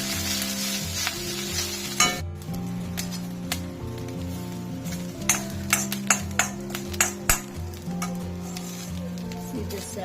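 Flaxseed is dry-roasted in a pan with a soft, constant sizzle and crackle. A spoon taps and scrapes against the pan in quick strokes toward the end.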